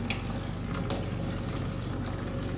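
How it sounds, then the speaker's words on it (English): Tap water running steadily into a sink while hand blown glass is washed, a close, continuous splashing hiss with faint clinks and no voices. "turn this water down just a little bit"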